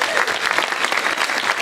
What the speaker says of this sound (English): thank you very much for applauding after everybody